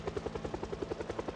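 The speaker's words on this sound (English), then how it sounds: "apparently the helicopter is somewhere south of me" Helicopter in a zombie survival video game, its rotor thumping in a fast steady rhythm with a droning engine tone, continuous and fairly prominent.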